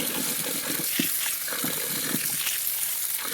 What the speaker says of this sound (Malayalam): മാങ്ങ നമുക്ക് രണ്ട് മൂന്ന് വെള്ളത്തിലായി നന്നായി കഴുകിയെടുക്കാം